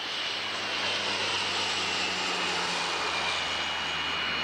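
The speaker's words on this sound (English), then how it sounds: "we've got another big jet coming in. It's coming in right across us now" A large jet airliner comes in to land near Niagara Falls, its engines a steady, loud roar that fills the air without letup.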